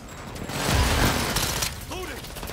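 Weapon reload in Call of Duty: Modern Warfare II, a run of mechanical clicks and metallic handling over a dense, loud wash of battle noise, with a brief voice heard near the end.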